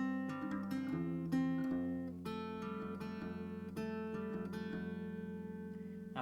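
Acoustic guitar fingerpicked through a chord pattern from a song, notes plucked one after another in a steady ringing rhythm, close and clear.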